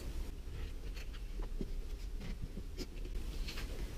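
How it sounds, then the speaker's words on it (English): A scalpel scores and slices through sandpaper to trim it to width on a woodworking bench, giving faint, close, scratchy rasps in short irregular strokes with no talking. "it's perfect for cutting the sandpaper to size, so I'm going to use that to cut this to the right width"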